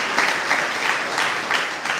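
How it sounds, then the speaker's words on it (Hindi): Children clapping together at a camp gathering, a steady, dense patter of many small hands close by that carries on evenly throughout. "आपके सम्मान में ताली बजाएंगे"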